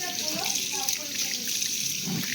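Hands washed under a running kitchen tap during fruit-cutting food preparation, a steady close hiss of flowing water with light splashes throughout, a voice faintly present beneath it.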